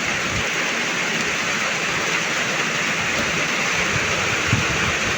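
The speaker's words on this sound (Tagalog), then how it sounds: "ang ulan, biglang lumakas" Heavy rain pours down in a steady, dense roar on a rainy-season day in the provinces, loud and unbroken with no speech over it.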